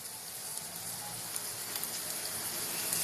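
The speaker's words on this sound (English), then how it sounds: "now we're gonna wait till these guys fry for a bit" Okra, or lady's finger, frying in a pan makes a faint, even sizzling hiss that holds steady throughout, with no talking.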